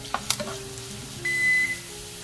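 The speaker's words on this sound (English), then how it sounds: "We're going to saute this onion until it's brown" Chopped red onion sautéing in a lightly oiled pan for jollof rice, a soft steady sizzle with a few clinks of a spoon at the start and a brief electronic beep partway through.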